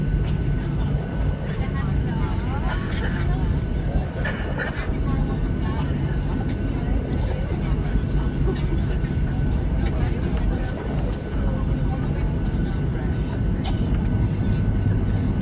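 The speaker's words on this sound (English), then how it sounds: "You can hear them steel brakes again." A Ryanair Boeing 737-800 taxis with its steel brakes engaged, heard from inside the cabin as a continuous loud rumble with faint squeaky tones over it.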